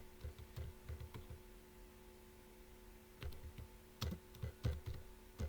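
Typing on a computer keyboard comes through as bursts of close, light key clicks, a steady run then a pause before a faster flurry, over a faint steady electrical hum.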